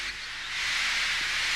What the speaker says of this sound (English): But Henry still stayed in the tunnel and blew steam at him.